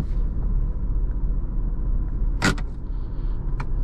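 The engine of a 2000 Porsche Boxster S rumbles at a low, steady idle while it backs into a parking spot, with a single sharp click partway through and no talking.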